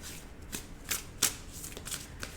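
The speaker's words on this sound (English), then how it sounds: "let's get a tarot card out for you guys, pile 2" Tarot cards being shuffled and drawn for a pick-a-card relationship reading, giving a few quick papery riffles and flicks, close and fairly quiet, with no talking.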